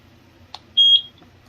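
A single clear electronic beep from a EufyCam 3 wireless outdoor security camera after its sync button is pressed, lasting about a third of a second over a quiet room, preceded by a faint click.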